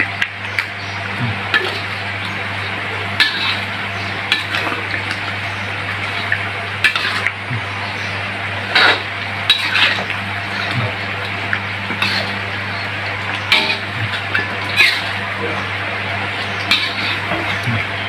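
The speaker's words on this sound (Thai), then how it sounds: "คลุกเคล้านะคะ เร่งไฟขึ้นค่ะอันนี้ คลุกเขาเลยค่ะ" Fried tilapia is stir-fried with chili and ginger in a pan over raised heat, with a steady sizzle under repeated scraping and clinks of a spatula against the pan.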